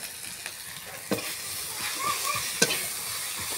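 Spice paste of ground cumin, coriander, chili and turmeric sizzles softly in a pan for a snakehead fish curry, with a spoon scraping through it in a few sharp strokes; no voices.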